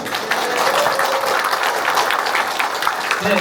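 A concert-hall audience claps and cheers loudly at a live talk-show performance, dense steady applause with whoops and shouts running throughout, a few voices rising above the crowd near the end.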